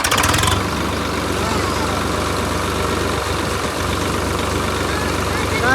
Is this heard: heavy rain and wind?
no